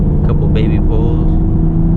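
A 9th-generation Honda Accord running on E85 accelerates hard, its engine a loud, close, steady drone heard from inside the car, with a voice speaking over it.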